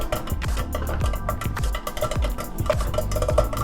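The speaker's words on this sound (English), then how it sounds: "I'm gonna go ahead and stir this butter, sugar, and corn syrup and salt." A spoon stirs butter, sugar, corn syrup and salt in a pot on the stove, making quick, rhythmic scraping and clinking strokes, close and continuous, with no talking.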